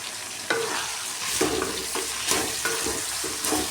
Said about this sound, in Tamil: போட்டு நல்லா வதக்கி விட்டுக்கலாம்.